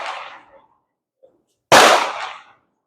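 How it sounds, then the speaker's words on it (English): A Mauser Model 71 rifle fires one sharp, loud shot at an outdoor range, a sudden blast with a short decaying tail, preceded by the fading end of an earlier report and near-silence. "So it's shooting off towards the target to the left."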